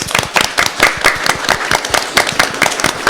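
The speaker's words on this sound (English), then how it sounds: "If we can give her a round of applause for having this." Audience applause for a woman presenter at an internship preparation talk: a dense, irregular patter of many hands clapping fairly close, steady and lively throughout, with no talking over it.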